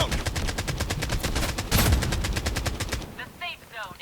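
Rapid automatic Kalashnikov rifle fire in the mobile shooter Call of Duty Warzone Mobile, a loud, fast, steady burst of shots lasting about three seconds, then stopping with a few faint game sounds after.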